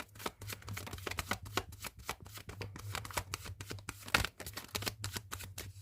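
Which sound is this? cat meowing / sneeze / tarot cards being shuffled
tarot cards being shuffled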